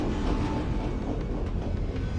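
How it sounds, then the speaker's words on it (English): Trains pass in the video game Night in the Woods, a dense, steady rumble of rolling wagons with faint rhythmic clatter, continuous and moderately loud with no voices. "Why are these trains scheduled so close together?"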